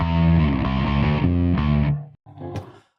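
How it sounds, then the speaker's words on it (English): A Lakland 4401 bass guitar plays a run of low, heavily distorted notes through a distortion pedal, loud and gritty, then drops away into a few scattered, quieter clanks. "It's just too much distortion."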